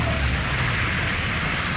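Rain falls outdoors on Old Hope Road in Kingston, Jamaica, a constant close hiss of drops throughout with no voices.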